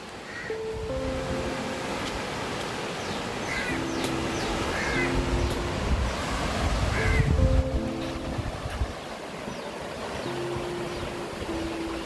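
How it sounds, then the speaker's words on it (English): Ocean surf washes steadily onto Gokarna beach, a broad continuous roar at moderate distance, while crows caw repeatedly over it and a faint hum runs intermittently in the background. "this is how the beach looks from the place where we stay"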